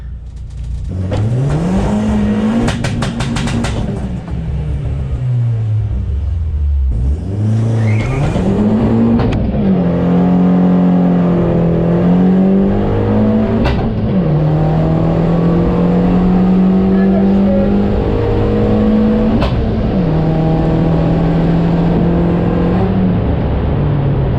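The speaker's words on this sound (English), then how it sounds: "Too much wheel spin on that one" A race car launches down a drag strip lane, engine screaming loud and close through rapid gear changes with bursts of wheel spin, then a long sustained high-revving run with repeated shifts.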